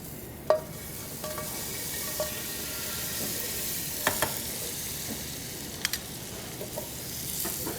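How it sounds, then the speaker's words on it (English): A quarter pound of butter melts in a pan with a steady low sizzle, punctuated by occasional clicks and taps of a utensil against the pan. "I'm going to start by melting the butter"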